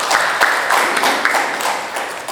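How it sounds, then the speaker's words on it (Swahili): An audience at a project inception event gives a dense, steady round of hand clapping, a continuous wash of claps with occasional sharper smacks and no voices over it. "Tupige makofi jamani."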